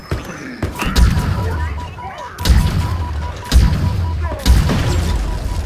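Cannons firing in the shooter game Halo Infinite, a series of about four deep booms spaced roughly a second apart, with players talking in between.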